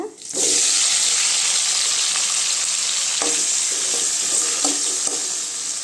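Tomatoes sauté in a pan for chutney, giving a loud, continuous close sizzle broken by a few scraping stirs.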